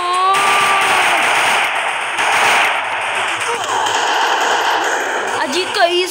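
Rapid gunfire in the mobile shooter game Free Fire, dense crackling bursts that run almost continuously, loud and close, ending in a headshot, with a few metallic pings near the end.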